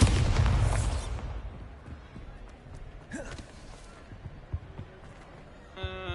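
Bombarda blasting spell in the Hogwarts Legacy video game on PS5 sets off a loud, booming burst that rumbles and fades over the first second, followed by quieter in-game sounds.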